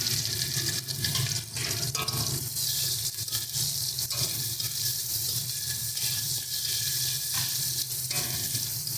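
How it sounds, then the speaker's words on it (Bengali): Chopped onion sizzles as a tempering in hot oil, a steady broadband hiss that holds without a break and sits close to the listener, with no voices. "এবারে এই তেলের মধ্যে দিয়ে দিচ্ছি পেঁয়াজ ফোড়ন"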